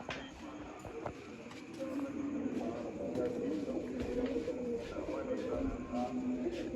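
Pigeons coo in low, repeated throaty phrases, with a person talking nearby over the steady background.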